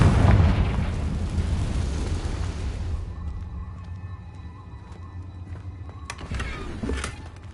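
A loud blast from the Confringo fire spell in the video game Hogwarts Legacy opens with a heavy boom, its rumble fading over a few seconds, and a second smaller burst arrives near the end.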